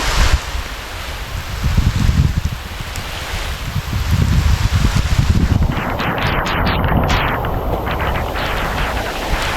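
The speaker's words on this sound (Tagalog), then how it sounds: "Yung lakas pa rin po ng ulan." Heavy rain pours down on a string bean field in a dense, loud, continuous hiss, swelling in bursts of rushing noise with no talking heard.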